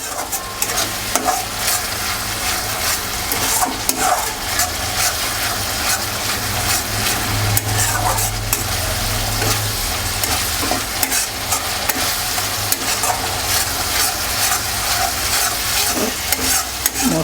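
Tomato cooks with spices in sizzling oil in a pan for a katla fish curry, a steady close crackle with frequent stirring clicks and scrapes and a low hum underneath; no speech.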